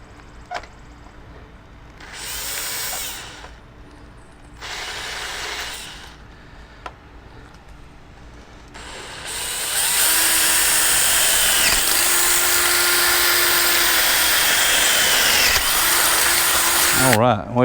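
Power drill boring through wood while building a chicken tractor for egg layers, first in two short whirring bursts, then a long, loud, continuous grinding run with pitch shifts as the bit works through, with someone talking briefly between.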